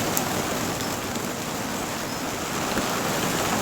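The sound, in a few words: mixture of snow and rain falling on a polytunnel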